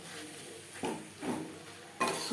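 Chicken and capsicum patty filling stirred in a pan with a spatula, three short scraping bursts roughly half a second apart, fairly close, with a faint sizzle beneath and no talking.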